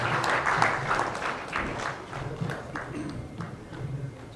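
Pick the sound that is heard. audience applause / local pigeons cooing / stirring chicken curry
audience applause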